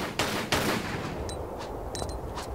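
Gunfire in Tomb Raider IV with a bubbling, watery quality: a few sharp, loud shots near the start, then softer, spaced pops and brief high metallic pings over a steady underwater-like rumble.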